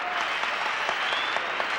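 An arena crowd applauds a women's gymnastics floor routine at the 1976 American World Cup, a dense, steady wash of clapping heard from a distance that holds for the whole stretch.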